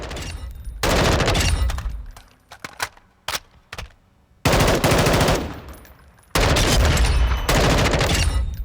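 Mark 18 CQBR firing in Call of Duty Modern Warfare II: three loud sustained full-auto bursts with a few single shots between them and brief quiet gaps.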